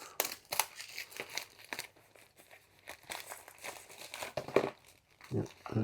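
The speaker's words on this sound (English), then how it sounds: "So take cellophane off." Cellophane wrapping is peeled off a small white box, giving close, irregular crinkling and tearing sounds in quick bursts with brief quiet gaps between them.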